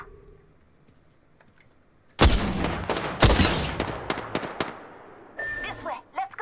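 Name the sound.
gunfire in video game Apex Legends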